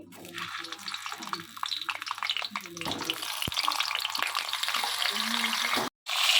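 Pointed gourd frying in hot white oil, a dense, loud crackling sizzle that builds and holds steady, close up, cut off by a brief silence near the end.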